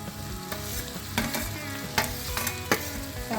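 Potato pieces sauté in a pan with turmeric and salt, a continuous sizzle punctuated by several sharp spatula clacks and scrapes as they are stirred.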